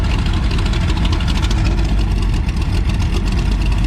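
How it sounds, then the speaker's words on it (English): Custom motorcycle fitted with a V8 car engine idles at Daytona Bike Week, giving a loud, close, steady rumble that runs unbroken throughout with no talking. "this is what happens when you stick a V8 car engine in a motorcycle."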